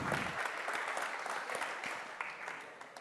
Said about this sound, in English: please give a round of applause to Simon and to Rory for the first half